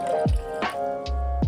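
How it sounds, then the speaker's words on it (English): Fresh orange juice poured into a jigger or shaker for a mocktail gives a few short liquid drips and splashes, the last one a little louder, with no talking over them. "Lastly, add 2 ounces, that's 60 ml of fresh orange juice."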